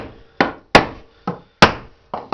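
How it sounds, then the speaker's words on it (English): Mallet or hammer tapping together a wooden hive top feeder, six sharp, close knocks spaced roughly half a second apart, each ringing briefly and then dying away, with no talk. "take your mallet or hammer"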